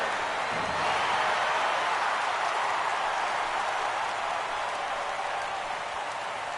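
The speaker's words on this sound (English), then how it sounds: "the home crowd has really come to life here in the bottom of the 8th" Home crowd in MLB The Show 17 roars after a home run in the bottom of the eighth, a broad, sustained wash of cheering and applause that stays loud throughout.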